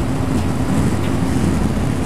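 BMW R1250 GS HP Adventure 2021 motorcycle on a test ride, its engine a steady low drone blended with heavy rushing wind buffeting the microphone, continuous and loud with no talking.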